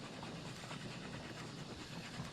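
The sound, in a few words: train running on rails in the video game Oddsparks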